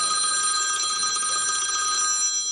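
Telephone ringing: a continuous electronic ring with a bright, trilling warble. Steady and fairly loud for the whole stretch, with no speech.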